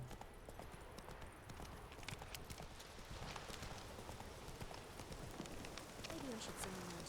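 Roach, the horse in The Witcher 3, gallops with quick rhythmic hoofbeats through a noisy outdoor game scene, ending with a faint whinny.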